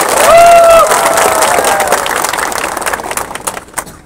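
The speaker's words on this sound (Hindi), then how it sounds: "आप अपने आप को भी थोड़ा सा ताली देकर अपने आप को भी क्रेडिट लीजिए" A crowd at a political rally applauds, opening with a brief shrill whistle, then a broad wash of clapping that thins out into scattered claps.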